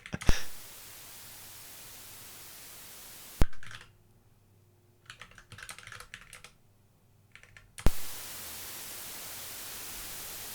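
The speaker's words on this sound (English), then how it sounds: "That sounds like white noise" A WAV noise generator written in Rust plays loud, steady white noise hiss at the start, then after a brief quieter stretch of keyboard clicking the dense noise returns and continues to the end.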